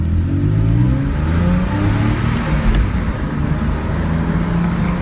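A 2006 Porsche 911 S (997) Carrera convertible's engine revs with a loud, rumbling, continuous roar, fluctuating as the throttle is worked, heard close by with no talking.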